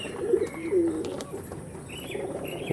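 Tournament pigeons coo in low, throaty bursts close by, with light chirps and a brief flutter of wings mixed among them and no talking.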